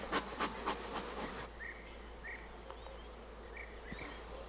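Steady buzzing of many honeybees around a hive, a continuous droning hum with a few louder passes early on, fairly close.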